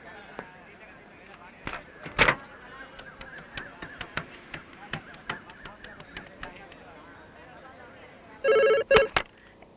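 Scattered clicks and a voice precede a short burst of electronic telephone ringing near the end.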